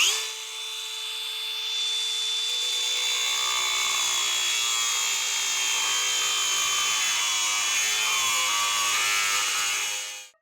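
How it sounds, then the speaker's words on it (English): DeWalt DCG405N cordless angle grinder with a 4-inch guarded wheel cutting through an 18 mm steel bar: a loud, steady high-pitched whine that spins up, then holds a continuous abrasive screech for about ten seconds before winding down. "Here I have 4 inches grinding wheel, and I'm going to cut this 18 mm steel bar"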